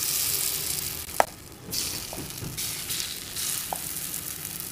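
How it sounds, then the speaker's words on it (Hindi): Small spoonfuls of vegetable rava appam batter hitting a hot appam pan, giving a steady soft sizzle with a few sharp clicks, close by and without speech. "बस एक एक चम्मच हम बैटर डालते जाएंगे"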